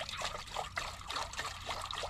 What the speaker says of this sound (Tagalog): Lagyan natin yung tubig, pakulo lang tayo.